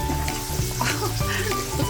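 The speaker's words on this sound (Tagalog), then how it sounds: "Naglagay ng mantika. Siyempre, naglagay siya ng bawang." Garlic sizzling in cooking oil for squid adobo, a loud close crackle and spatter with utensil stirring scrapes running through the whole short stretch.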